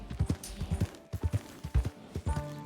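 Horse hooves clip-clopping in Red Dead Redemption 2, several short bursts of rhythmic steps in groups across the moment, fairly close and moderately loud with no talk over them.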